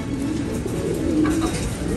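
Quarantined pigeons coo close by, a soft low rolling call repeating over a steady background murmur, with no talking.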